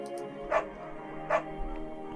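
A dog barks twice in the video game Firewatch, two short separate woofs over a steady low musical background, with no talking.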